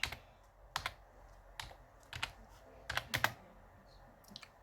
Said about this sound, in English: Let's type here for Canadian